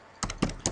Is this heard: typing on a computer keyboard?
yes